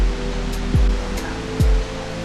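Steady broadband rushing of the Shiraito Falls in Shizuoka, Japan, close and continuous, with a couple of low thumps or bumps briefly breaking through.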